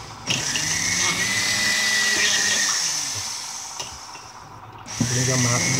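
A power tool drills and saws into an acrylic amulet frame, giving a steady close whirring buzz that fades and shifts over several seconds, then cuts off briefly before restarting.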